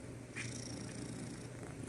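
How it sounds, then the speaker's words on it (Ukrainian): A domestic cat purrs steadily and softly at close range, a continuous low rumble set in a faint hiss of room noise with no voices. "муркотіти"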